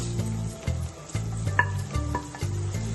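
Chopped coriander and mint fry in a pan for a shrimp and brinjal masala curry, giving a close sizzle broken by repeated rhythmic stirring and scraping strokes, with no talking.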